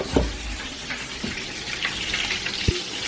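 Onions frying and browning in a pan for Italian meat sauce, a low continuous sizzle broken by a few sharp knocks and clatters of utensils.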